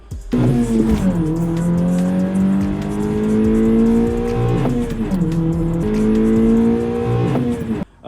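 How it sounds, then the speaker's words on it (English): Honda Civic with a 2.0-litre K20C2 naturally aspirated engine and K24W1 intake manifold, loud and close, revving hard at wide open throttle in long sustained pulls that sag and recover, with a brief tire squeal. "Every time I kept driving this car for wide open throttle pulls, this car would bog, it would respond poorly."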